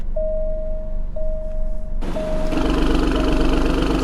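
A 2019 Alfa Romeo Giulia Quadrifoglio engine running in sport mode, first a low steady idle with a thin whine, then abruptly rising to a louder, fuller rumble.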